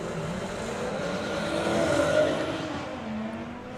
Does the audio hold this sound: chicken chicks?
no